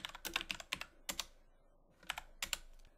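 Commands are typed on a computer keyboard in short clusters of crisp, close keystrokes separated by brief pauses, with no talking.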